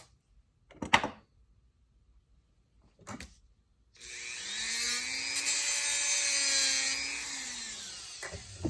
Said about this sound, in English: Now we can cut our axle tube